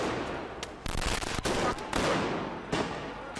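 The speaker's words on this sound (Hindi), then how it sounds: "पुलिस पर पटाखों से हमला" Firecrackers thrown at police during a street protest outside parliament in Georgia, several sharp bangs spaced irregularly over a dense crowd roar, fairly close and loud.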